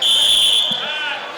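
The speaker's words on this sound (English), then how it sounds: "And we got a period buzzer." A period buzzer sounds at a wrestling match, a loud, steady electronic tone that holds for about a second before fading into arena noise.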